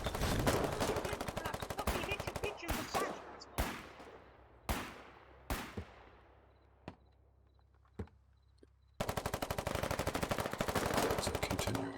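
Gunfire in the war game Foxhole: loud rapid automatic bursts, then several single heavy shots spaced a second or so apart with fading tails, and another long sustained burst of automatic fire at the end.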